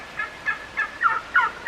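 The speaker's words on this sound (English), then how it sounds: "Oh, listen to the turkeys." Turkeys gobbling in a farmyard among ducks, several short warbling gobble bursts repeating in a loose rhythm at moderate distance, fairly faint and alone without talk.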